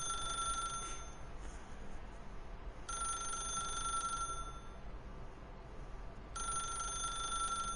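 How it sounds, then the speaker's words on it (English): A green rotary telephone rings in The Stanley Parable video game with three bursts of a bright, rattling electric bell separated by pauses over a low background hum, fairly faint, with no talking. "It's a rotary phone, and it's green."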